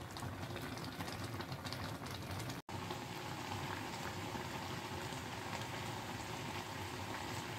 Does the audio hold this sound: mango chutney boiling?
yes